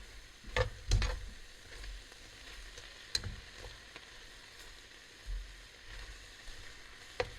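Beef chunks for Thai beef stew brown in a hot pan with a quiet, steady sizzle, punctuated by a few sharp pops and light clinks of stirring.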